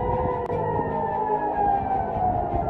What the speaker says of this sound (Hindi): तेल अविव में एकदम सायरन बजना शुरू होते हैं।